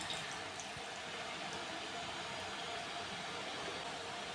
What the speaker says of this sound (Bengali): দিয়ে দিচ্ছি পরিমাপ মতো জল।